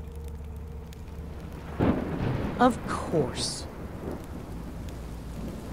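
Steady rain in Minecraft: Story Mode hisses throughout with low rumbling underneath, while a few brief voices speak over it in the middle.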